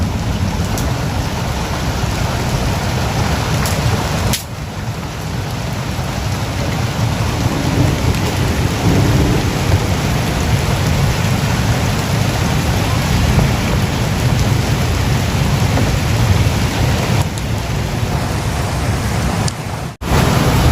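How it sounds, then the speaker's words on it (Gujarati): Sudden rain in Gujarat pours hard and loud with deep thunder rumbling beneath, a thick continuous roar that dips briefly twice before surging back. "વરસાદ ચાલુ થઈ ગયો છે"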